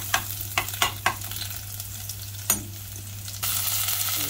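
Garlic sautés in cooking oil in a pan, a soft steady sizzle broken by a handful of sharp utensil clicks, then a louder hiss near the end.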